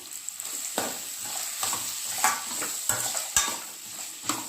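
Spicy egg Maggi noodles being stirred and fried in a pan, giving a steady soft sizzle broken by several brief scraping strokes of a utensil against the pan at irregular intervals.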